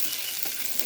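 Food frying in splattering hot oil in a home kitchen, a continuous dense crackle and sizzle, close and loud, with no talking.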